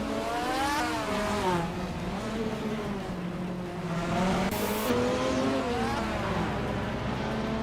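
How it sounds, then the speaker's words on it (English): A 1981 Lancia Monte Carlo Turbo races in a video game, its engine droning and revving steadily at high pitch. Other cars blend in throughout, with a brief sharp burst near the middle. "Jackal is driving a Lancia Monte Carlo Turbo from 1981"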